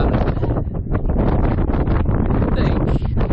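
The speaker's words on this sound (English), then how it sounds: "Really windy and cold" Strong wind on a Dartmoor hilltop roars and buffets the microphone continuously, a loud, heavy rumbling gust with no letup.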